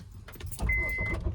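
Car interior while driving, with a steady low road rumble, a brief jingle and a short mechanical whine near the end.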